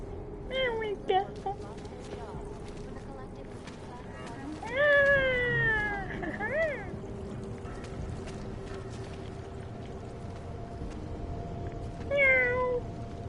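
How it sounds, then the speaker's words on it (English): Cat meowing in the video game Deus Ex: Mankind Divided: a few drawn-out, rising and falling meows spread across the stretch over steady game background sound, with a person talking now and then. "Meow."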